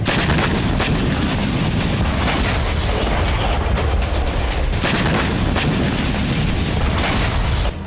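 Gunfire and explosions on a Russia-Ukraine war front: a dense, continuous barrage of shots and booms with sharp cracks near 0.8, 2.4 and 4.8 seconds, loud and unbroken throughout.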